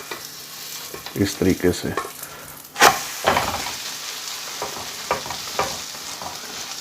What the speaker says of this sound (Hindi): अब मैं अंडे को पलट दूँगा।